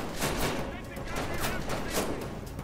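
Enemy gunfire in the video game Deus Ex: Mankind Divided, rapid shots rattling continuously throughout, loud and dense with overlapping bursts.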